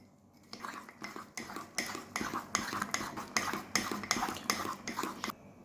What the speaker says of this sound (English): Let me scrape it from the sides also.